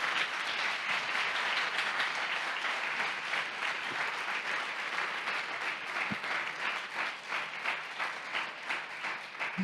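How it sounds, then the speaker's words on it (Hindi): A church congregation gives Jesus a loud ovation during a Hindi sermon, with sustained applause from a large crowd filling the hall steadily for the whole stretch and no talk over it. "आइए यीशु के लिए जोरदार ताली बजाएंगे"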